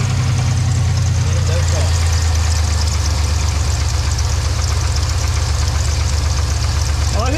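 An LS car engine idles with a steady low rumble and a faint rhythmic knock, close by; voices talk briefly over it.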